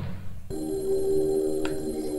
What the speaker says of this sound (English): the fucking phone is ringing and Jennifer doesn't want to pick it up